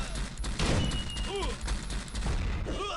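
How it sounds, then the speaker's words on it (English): A drum gun and cannons fire during a base attack in a video game, a dense, continuous barrage of shots and booms with a voice talking over it. "Fortunately, the drum gun and cannons helping out in the background."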